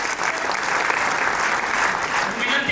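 An audience at an industrial training institute skill-honour award ceremony in Jamnagar claps in a dense, sustained burst of applause throughout, loud and fairly close, with no clear voice rising above it.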